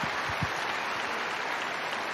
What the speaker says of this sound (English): Huge round of applause for Fritz for a great performance today and also this tournament.